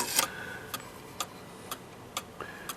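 Soft, steady cuckoo clock ticks at an even pace, about one every half second, quiet and close in an otherwise still room.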